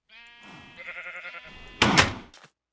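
Sheep bleating in a sheep pen in the video game Minecraft, a wavering nasal bleat followed by a sharp, louder thunk like a door or gate.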